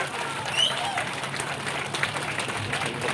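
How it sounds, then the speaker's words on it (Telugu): An audience at a minister's public event claps, a dense, sustained patter of many hands, moderately loud, with a few voices and shouts mixed in. "సో ఒకసారి గట్టిగా చప్పట్లు కొడదామా?"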